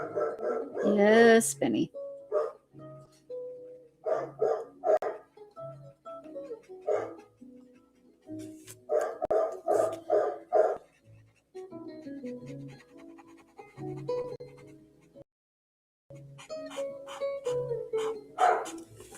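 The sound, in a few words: dog barking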